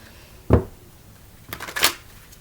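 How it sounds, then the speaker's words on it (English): A single soft thump followed by two quick papery riffles of tarot cards being shuffled, close and fairly loud in a quiet room. "One more shuffle."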